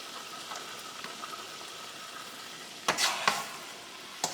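Chicken in red mole sauce frying in a pan, a faint steady sizzle with a few louder crackling spits near the end.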